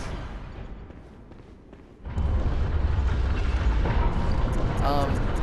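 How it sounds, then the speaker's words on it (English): The church cannon fires in Bloodborne, a heavy booming blast that kicks in partway through and holds a loud rumbling roar, following a stretch of quieter game ambience, with someone talking over it. "Now down here is the church cannon."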